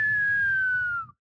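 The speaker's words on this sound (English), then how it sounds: "If you don't hear that whistle, you're not going to get hit by anything." A falling whistle from a video game warns of a skull special attack during a raid boss fight. A single clear tone lasts about a second, sliding slightly downward over a low rumbling game background, then cuts off.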